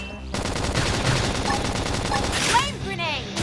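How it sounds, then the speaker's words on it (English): Rapid bursts of gunfire from a battle in the video game Xenoblade Chronicles X crackle steadily for a few seconds, layered under game effects and music before tapering off. "Topple them with gunfire!"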